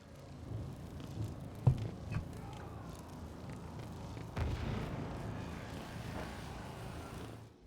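Explosions and gunfire-like booms in a sci-fi battle cutscene from the Warhammer 40,000 game Rogue Trader, with two sharp blasts standing out over a steady low rumble of distant fighting.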